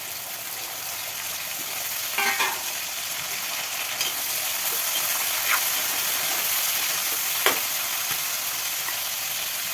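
Shredded cabbage and potato fry in a wok with a strong, even sizzle and hiss throughout, broken by a few quick stirring scrapes; the sound is close and free of talk.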